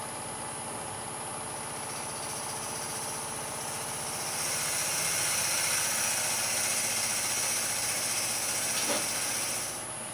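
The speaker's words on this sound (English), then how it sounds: "So now I'm cutting a tenon to reverse this in the chuck." Wood lathe turning a kuksa cup as a tenon is cut for the chuck, a steady mechanical whir with a scraping, hissing cut that swells louder midway and fades near the end, no talking.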